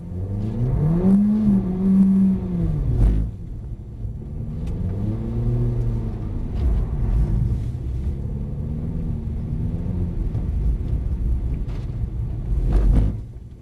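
A Mercedes-Benz car on a driving-experience track accelerates at full throttle, its engine note climbing steadily in pitch with a gear change partway, loud and close from inside the cabin, rumbling continuously throughout.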